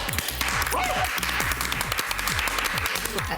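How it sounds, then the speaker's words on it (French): Scattered clapping from a small group of housemates in a Quebec reality-show loft, continuous and fairly close, with voices talking over it. "Une bonne main d'applaudissement, gars?"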